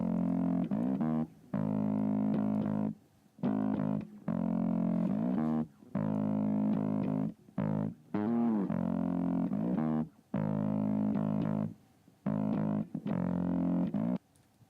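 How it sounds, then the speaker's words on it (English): Gritty, fuzzy distorted bass notes play in sustained phrases separated by short silences, thick and buzzing with a honky midrange edge, from Twenty One Pilots' "My Blood". "let's have a listen to this distortion layer"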